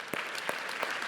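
Church congregation clapping, a brief burst of many hands with a few sharper individual claps standing out at a steady pace, close and full.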